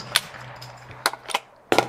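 Three sharp gunshots at an outdoor range firing low-recoil 1150 ammunition, loud close reports spaced unevenly over a couple of seconds with no talk.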